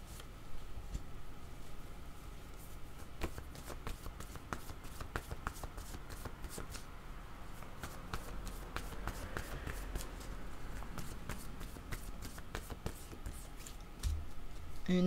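Tarot cards are shuffled in quick, crisp riffles that come as a dense run of soft clicks and flutters. The sound is quiet and close, with no talking.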